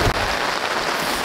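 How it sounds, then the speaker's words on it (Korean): Steady, dense patter of a sudden rain shower drumming on a camping tent, continuous and close, with no voices over it. "아 비야!"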